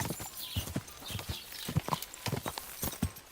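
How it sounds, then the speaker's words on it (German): Horse hooves from the video game Kingdom Come: Deliverance 2, a quick uneven clip-clop of galloping close by at moderate-to-low loudness. "Du, mein Pferd kann nicht mehr! Galopp!"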